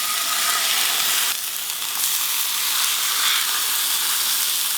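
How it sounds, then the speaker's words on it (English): Bison patties sizzle hard in a smoking-hot cast iron pan, a loud, continuous, bright hiss that barely shifts and plays on its own up close. "We're gonna get our bison patties in."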